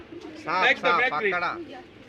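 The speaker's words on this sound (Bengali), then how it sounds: "একটু কবুতরটা দেখি লিটন ভাই" Pigeons coo nearby in a short throaty burst, with busy background noise of a pigeon market around them.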